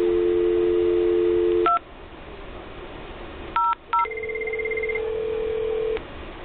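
Cisco IP phone on extension 240 sounding a dial tone, then several short dialing beeps in quick succession and a sustained tone afterward, clear and close with no talk.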